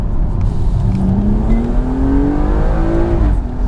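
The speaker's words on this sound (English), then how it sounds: "Nice 6-cylinder howl as well." A 2016 BMW M235i six-cylinder engine accelerates hard from inside the cabin, a steady rising howl climbing in pitch over nearly four seconds with no talking.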